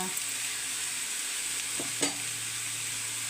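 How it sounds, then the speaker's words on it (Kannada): A whole eggplant frying in hot oil, giving a steady sizzle with a couple of brief stirring clinks partway through and no voices. "ಎಣ್ಣೆ ಒಳಗೆ ಸ್ವಲ್ಪ ಫ್ರೈ ಮಾಡ್ಕೋಬೇಕು, ಚೆನ್ನಾಗಿರುತ್ತೆ."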